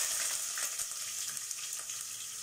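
Ginger hits hot cooking oil in a pan, producing a continuous bright sizzle with small crackles and faint stirring knocks, close and steady throughout.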